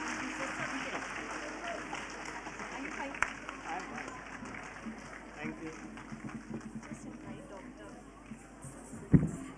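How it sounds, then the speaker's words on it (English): An audience at the inaugural ceremony and cultural evening of an international interfaith conference claps in a steady, fairly distant patter, with a voice talking over the applause throughout. "I would like audience to applaud with as much as you can clap"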